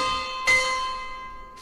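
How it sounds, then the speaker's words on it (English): A school bell in the game Twisted Wonderland rings for lunchtime. A single clear struck tone rings out and hangs as a long sustained decay, and a second strike comes in right at the end. "There's the bell. It must be lunchtime."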